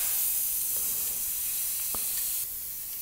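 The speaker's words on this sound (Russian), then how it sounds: "Вот он шипит. Воздух идет, но уже не брызгает." Air hissing steadily out of a pressure sprayer tank, the kind used to spray soapy solution for window tinting, as it is turned upside down to vent; a faint, continuous breathy hiss with a couple of small clicks and a slight drop near the end.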